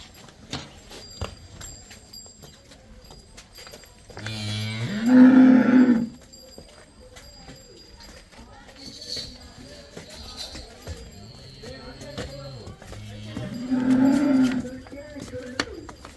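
Jersey cows on a dairy farm give two loud, drawn-out moos several seconds apart, close by, with quiet farmyard background between them.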